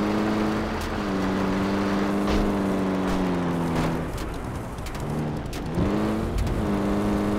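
A vehicle in a Battlefield 2 Damocles mod game drives with a steady engine drone whose pitch climbs and drops as gears shift, loud and close, with no talking.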